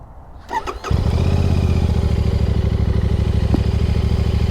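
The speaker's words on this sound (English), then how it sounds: "a really nice smooth burble coming from this 650 parallel twin" A Royal Enfield Classic 650 parallel-twin motorcycle starts with a short crank, then settles into a loud, close, steady idle burble.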